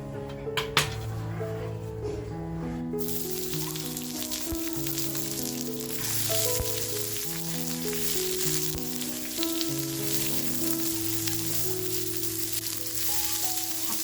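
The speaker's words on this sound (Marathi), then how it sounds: "थोडस बघा तेल टाकून आपल्याला हा कांदा छान असा परतवून घ्यायचा आहे" Onion sautéing in oil for Nagpur-style Saoji mutton, a soft, steady sizzle crackling underneath, with background music playing throughout.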